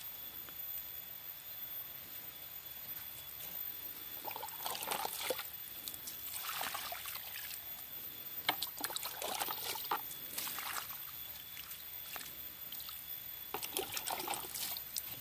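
Water pours and trickles onto soil around a newly planted banana tree in several bursts, splashing and soaking into the ground, with quieter gaps between each pour.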